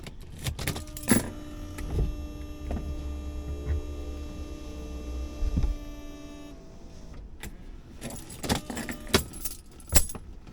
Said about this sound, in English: Let's go ahead and roll up my windows though.